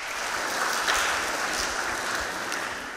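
Children clapping together in a long, loud, steady round of applause at a youth Advent gathering, dense and continuous for the full length with no talk over it.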